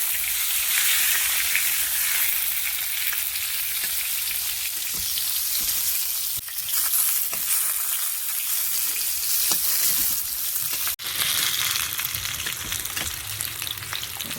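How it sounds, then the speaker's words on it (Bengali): Potato pieces and homegrown white eggplant fry in a pan of oil with a loud, continuous hissing sizzle. Faint stirring knocks sound now and then, and no one speaks. "আলু বেগুনটা একটু ভালো করে ভেজে নেব।"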